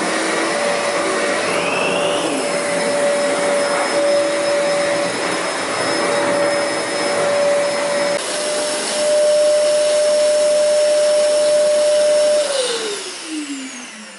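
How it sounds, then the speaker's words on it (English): A ZeroG floating bag vacuum cleaner runs with a loud, steady whine and a constant motor tone, then winds down near the end. "And a ZeroG is really a cool little vacuum that floats."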